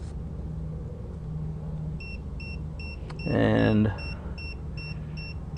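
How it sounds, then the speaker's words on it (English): A TireMinder smart TPMS Bluetooth adapter alerts with a regular series of short, high electronic beeps inside a car. A low hum runs underneath, and there is a brief rumble and a spoken word partway through. "the Bluetooth adapter is alerting. It picked up the signal."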